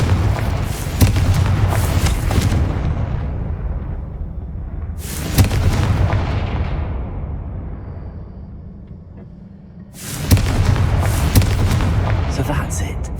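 Confringo blasting spell in the video game Hogwarts Legacy: three loud, close explosive bursts a few seconds apart, each a booming roar that slowly fades before the next hits.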